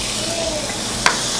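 Tomato fries in a pan with garlic and onion and olive oil, producing an even, moderate sizzle with a single sharp clack of a utensil partway through.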